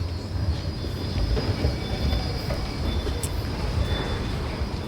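Steady rumbling rush of a train running along rails, with continuous low-frequency roar and a faint squeal, no voices.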